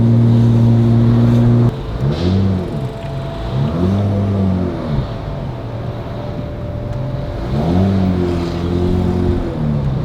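Engine of a cheap BMW 335i with a suspected faulty gearbox, revving loudly and close, its pitch sweeping up and falling back in several uneven surges as the car accelerates.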